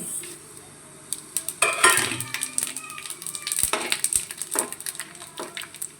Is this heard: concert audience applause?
no